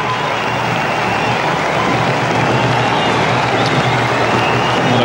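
Cricket crowd at a Sri Lanka Test match roaring and applauding as Sanath Jayasuriya reaches fifty; a loud, dense, unbroken wall of cheering and clapping fills the whole stretch.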